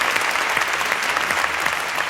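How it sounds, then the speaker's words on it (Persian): Audience applause at a gathering for two young Quran reciters, steady dense clapping from a crowd, close and continuous throughout. "آقای قاسمیان عزیز هم جناب پیام عزیزی عزیز رو جانانه تشویق بکنیم"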